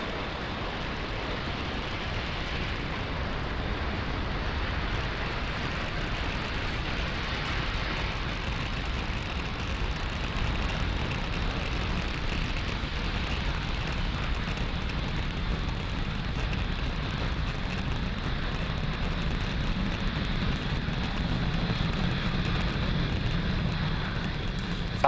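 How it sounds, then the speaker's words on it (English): Continuous deep roar of a SpaceX Falcon 9 rocket lifting off from Space Launch Complex 40 at Cape Canaveral Space Force Station, a steady broadband rumble sustained throughout with no break or voices. "Falcon 9 has successfully lifted off from Space Launch Complex 40 at Cape Canaveral Space Force Station"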